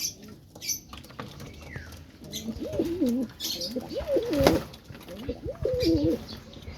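Pigeons coo in repeated soft, rolling calls close by, with light pattering and scuffling in between.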